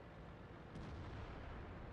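A distant artillery boom in the tank video game World of Tanks thuds under a dense, constant roar of battle noise, with no voices.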